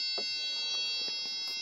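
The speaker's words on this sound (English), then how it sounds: "We should get the other beeping noise." A steady, high-pitched electronic beep sounds without a break while testing a ground on a BMW 3 Series F31 with a non-working instrument cluster, with soft clicks and handling noises underneath.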